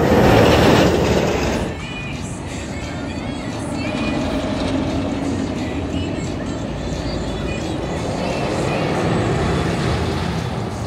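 A B&M Goliath roller coaster at Six Flags Over Georgia roars past, loud rushing and rattling train noise that eases briefly then swells again, with faint voices mixed in.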